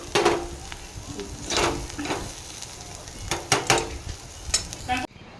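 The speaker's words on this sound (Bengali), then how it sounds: "আমার উচ্ছে আলু ভাজা কিন্তু কমপ্লিট হয়ে গেছে এবার আমি এটাকে নামিয়ে নেব" Bitter gourd and potatoes fry in a pan, with a spatula scraping and tapping in uneven strokes over a low, steady sizzle until the sound cuts off abruptly.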